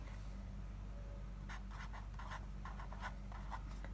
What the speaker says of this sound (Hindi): सो यहाँ पर मैं ब्रैकेट में लिख देता हूँ